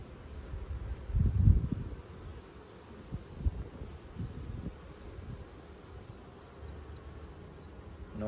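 Honeybees hum around an opened hive at Hive 5 during frame inspection, a low, soft buzzing swarm with a louder swell near the start, then quieter fluctuating drone.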